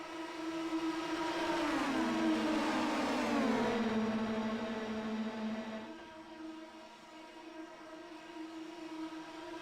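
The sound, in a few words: Mazda FR2000 race cars rumbling around Pocono oval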